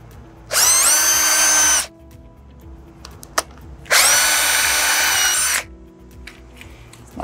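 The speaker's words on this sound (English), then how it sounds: "My pilot hole drilled." A power drill bores pilot holes through an aluminum handrail bracket in two loud, steady bursts of about one and a half seconds each, separated by a pause with a sharp click, with no voices.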